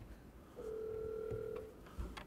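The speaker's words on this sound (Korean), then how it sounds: "다현이가 전화를 안 받네요." A telephone rings on an unanswered call, a single steady ring tone sounding for about a second over faint room noise.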